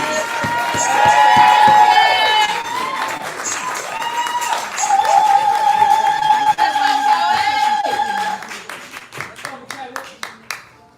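Crowd applause and cheering for a poet at a poetry slam, loud sustained clapping with whoops and raised voices that thins out into scattered claps at the end.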